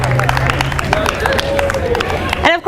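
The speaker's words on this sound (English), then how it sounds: "Can we give them another round of applause?" A crowd claps and cheers for a student jazz ensemble at a college event, the dense applause steady and fairly loud before breaking off abruptly near the end.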